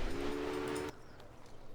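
Train passing on tracks, a loud rushing rumble with a steady tonal horn-like hum that cuts off abruptly partway, leaving a lower rolling noise.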